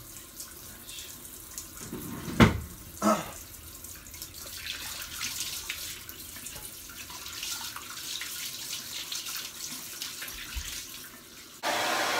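A tap runs steadily to rinse hair, a continuous close hiss of flowing water after a couple of brief knocks, growing louder near the end.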